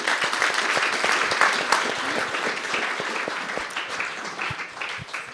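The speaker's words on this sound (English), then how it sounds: "Please give a nice round of applause to Travis Brown, everybody." A crowd claps steadily and loudly, a dense applause that holds for several seconds before easing slightly toward the end.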